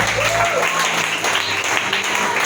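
A church congregation claps and cheers during a French-language Sunday sermon, with dense, loud applause throughout and voices calling out over it.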